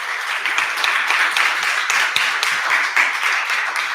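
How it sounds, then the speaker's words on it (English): Dense crowd applause at an evening tech community meetup, many hands clapping steadily and loudly throughout, with the occasional faint voice underneath. "can we have a massive round of applause"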